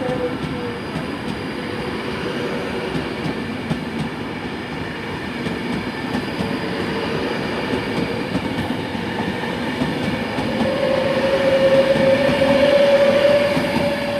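A Class 390 Virgin passenger train rumbles steadily past Coventry station, with rail noise building and a high wheel squeal rising near the end.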